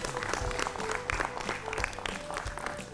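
Brief burst of clapping from a group in a classroom-style learning show, steady and close for a few seconds.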